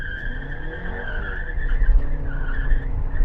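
Tires squeal steadily as a 2024 Honda CR-V e:HEV hybrid accelerates hard, a loud sustained screech wavering in pitch over the low rumble of the moving car.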